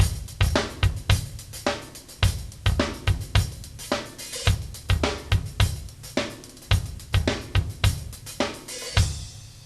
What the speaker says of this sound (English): right, left, right, left pattern on the hi-hat.